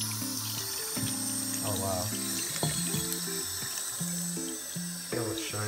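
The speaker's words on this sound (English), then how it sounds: "let's just quickly run and do some water to get the rest off it" A tap runs to rinse a handmade axe head, giving a soft, steady water splash under loud music, with a person briefly speaking.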